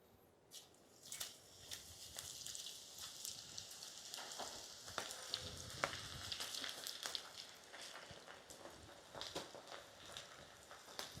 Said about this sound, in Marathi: तेल गरम झालेलं आपलं आता आपण त्याच्यामध्ये भेंडी फ्राय करून घेऊ